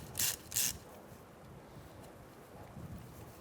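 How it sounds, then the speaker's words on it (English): Two quick ratchet bursts from an 11mm socket loosening a brake hose from the caliper on a 2013-2022 Buick Encore, close and crisp near the start, followed by quiet background. "Using an 11mm socket, we're going to disconnect our brake hose from the caliper."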